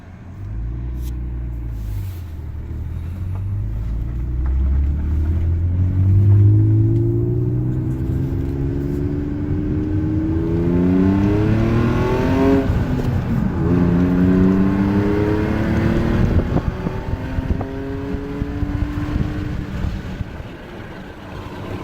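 1997 BMW 528 E39 with a muffler delete revs up, its engine note rising and falling in several sweeping pulls, rumbling loud and fairly close with no talking.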